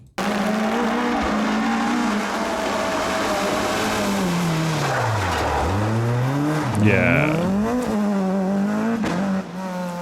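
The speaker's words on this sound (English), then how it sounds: "6-cylinder engine sound. Nothing wrong with that." A six-cylinder rally car engine revs loudly as it passes, pitch dipping and rising through gear changes, with a brief tire squeal and a short spoken word.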